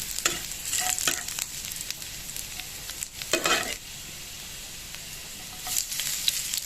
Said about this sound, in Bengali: সামান্য আদার কুচানো দিয়ে দিলাম আদা রসুনটাকে একটু লাল করে ভেজে নিতে হবে